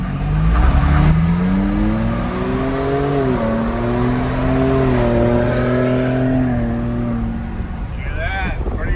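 A Ford F-450 truck accelerating hard in a race, a loud engine roar whose pitch climbs and shifts through gears, close and steady for several seconds before fading.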